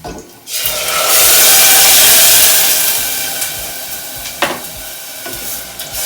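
Tomato hits hot oil in a pan and sizzles loudly, a sharp hissing rush that swells and then settles into a steady frying crackle with a few stirring knocks.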